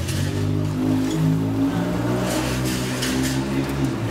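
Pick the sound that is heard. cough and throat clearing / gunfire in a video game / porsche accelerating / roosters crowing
porsche accelerating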